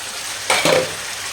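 A quick stir sends a short sizzling scrape through chopped onion, rampe, lemon leaves and cinnamon leaves frying in a pan, one brief burst over a steady background hiss.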